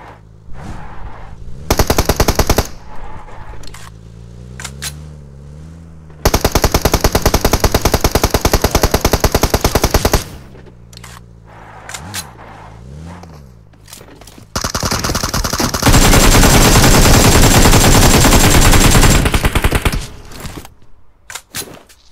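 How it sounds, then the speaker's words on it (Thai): Automatic gunfire in PUBG Mobile, with several long dense bursts of rapid shots, loud and close, separated by quieter gaps of game ambience and movement. "หนึ่งมายิงมันดิหนึ่ง"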